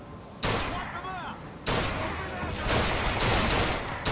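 Carbine gunfire in the video game Bioshock Infinite comes in loud, dense bursts that start abruptly and keep going in a rapid volley, broken by a brief lull.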